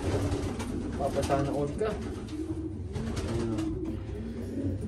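Breeder racing pigeons, including Blackpool-line birds from the UK, coo steadily in a loft, their low rolling calls running throughout at close range beneath someone talking.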